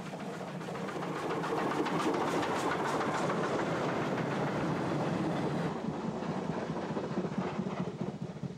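An unusual Queensland train carrying a state governor's special car passes on the Toowoomba Range line, a steady loud rumble with rhythmic clickety-clack of wheels over rail joints, easing slightly toward the end.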